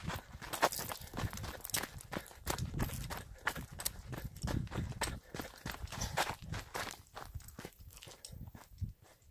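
Donkeys walking outdoors in the Texas Hill Country, a steady series of hoof steps on ground, close and fairly loud, with no talk over them.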